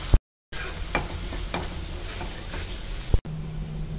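Dry spice masala stirred and frying in oil in a pan for chole, a continuous crackling sizzle with a few spoon scrapes, after a brief silent gap at the start, close and steady with no voices.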